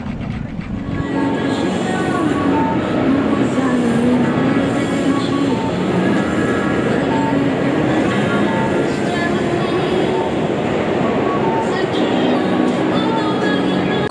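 Continuous rumble of a Tokyo tram on Route 13 rolling along rails, steady and loud from inside the car, with faint wheel tones and rattles.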